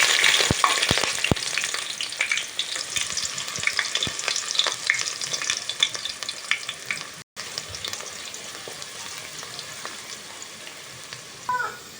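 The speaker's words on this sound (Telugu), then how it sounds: "ఆయిల్ కొంచెం కాగిన తర్వాత కొన్ని లవంగాయలు వేసుకుంటున్నామండి. అలాగే కొంచెం చెక్క, దీంట్లోనే కొంచెం ఉల్లిపాయలని కూడా వేసుకుంటామండి." Onions, cloves and cinnamon frying in hot oil for a fish curry, a steady close sizzle with occasional stirring clinks, continuous throughout with a brief dropout near the middle.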